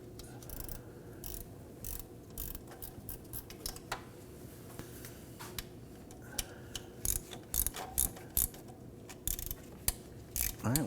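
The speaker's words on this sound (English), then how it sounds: "let's go ahead and grab our wrenches" Ratchet wrench tightening the accessory drive belt tensioner bolts on a 2008-2011 Ford Focus: faint, close clicking of the pawl in irregular short runs over quiet background, with no talking.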